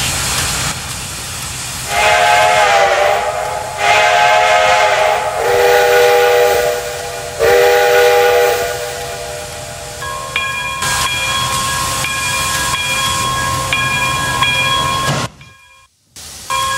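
Steam locomotives NKP 587 and S&A 750 on an excursion train depart a station, chuffing in rhythmic bursts, then a loud sustained whistle blows several times over the rumble before a brief cutoff.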